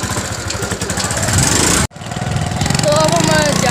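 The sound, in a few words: motorcycle engine running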